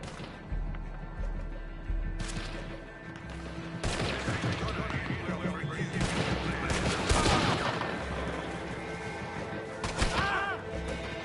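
Red Dead Redemption 2 gunfire rattles through a sustained firefight, with rapid overlapping shots and cracks, some dense bursts, set against a steady ambient bed and a brief voice near the end.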